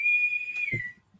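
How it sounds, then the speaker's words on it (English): A person whistles one sustained, steady note for about a second from the background, fairly loud, then a soft thump follows, with no talk. "What's that whistling? Is that your mom whistling in the background?"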